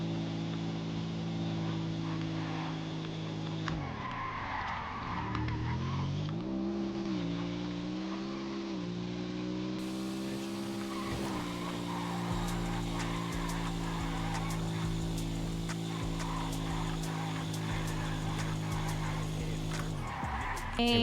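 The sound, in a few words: motorbike engine accelerating in the video game GTA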